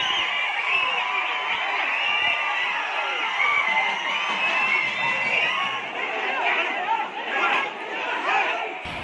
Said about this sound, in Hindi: ये भीड़ कुरनूल में उगादी यानी कि नए साल के जश्न की है।